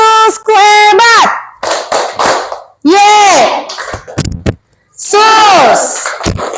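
A classroom of students plays a standing clapping game, hands clapping in quick bursts between loud, sung group chanting.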